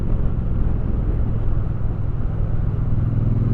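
An Aprilia Tuareg motorcycle engine pulls steadily in second gear while riding, a continuous loud, low rumbling drone heard close up without a break.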